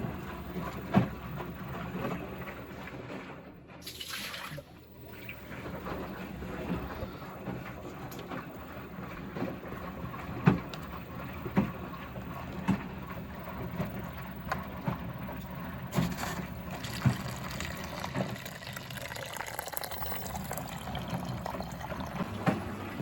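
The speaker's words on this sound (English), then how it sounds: "So now it's filling on the main wash side with what is most certainly hot water." Hot water flows and trickles steadily into the drum of a Miele WS5073 sluice washing machine, a continuous low rush with occasional clicks and knocks.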